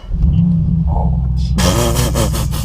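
A straight-piped Mercedes E63S AMG rumbles at a low idle, then its engine snarls loudly as it pulls away, a harsh, raspy exhaust roar rising close by.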